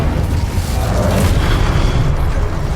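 An Incendio fire spell cast in the Hogwarts Legacy video game during combat, a loud sustained rumbling roar of flame with a booming low rush, dense and close throughout, with no talk.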